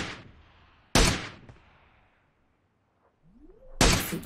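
Video game gunfire during a solo-versus-squad battle royale match: three loud, sharp gunshot bursts spaced a second or two apart, with a brief whooshing pitch sweep just before the last shot.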